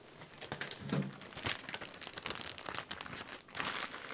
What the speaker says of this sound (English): the first thing to do will be to remove all of the packing tape